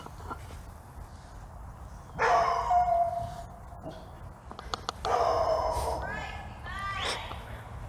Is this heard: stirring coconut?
no